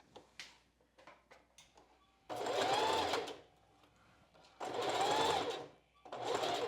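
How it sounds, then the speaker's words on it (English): A sewing machine stitches a strapless bra seam in three quick bursts of rapid mechanical whirring and ticking, separated by short quiet pauses filled with faint handling clicks. "We're going to sew at a 1/2 inch seam allowance."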